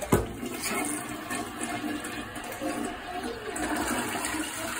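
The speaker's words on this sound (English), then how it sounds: "All right, let's give it one more flush, just to be sure." A household toilet flushes after being unclogged, a loud rushing swirl of water draining and refilling close by with no talking.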